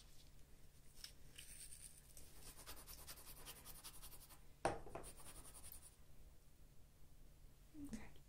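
Sargent colored pencil being sharpened in a handheld sharpener, a faint dry scraping and grinding in short turns, with a sharper click midway and a soft knock near the end.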